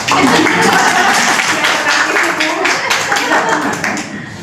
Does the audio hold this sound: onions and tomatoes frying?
no